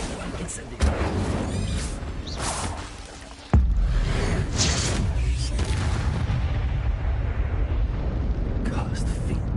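Spell-casting effects from the Hogwarts Legacy video game burst out as booming, whooshing blasts and rumbling impacts, loud and close, with a voice calling out throughout.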